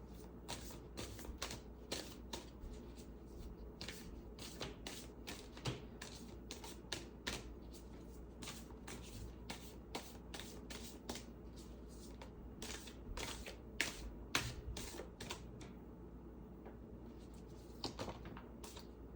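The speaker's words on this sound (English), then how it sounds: "that took a minute to shuffle" A deck of tarot cards shuffled at length, a long run of close, crisp card slaps and riffles in uneven rhythm, quiet and without talk.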